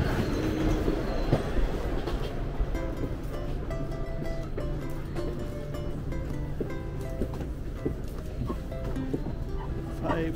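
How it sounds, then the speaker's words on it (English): Inside a Shinkansen bullet train rolling along the rails, a steady rumble and rhythmic clatter fill the cabin, with faint tonal chimes and people talking softly over the moving train. "getting on the Shinkansen now"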